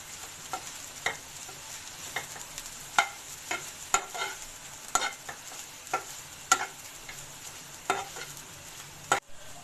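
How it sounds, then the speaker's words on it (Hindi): Masala being stirred and mixed in a pan after soy sauce and red chili sauce are added, for chicken cheese bread pockets: irregular scraping and clacking strokes over a faint sizzle, close and alone. "1 टीस्पून इसमें मैं रेड चिली सॉस डाल दूंगी और इसको बहुत अच्छा सा मिक्स कर लूँगी"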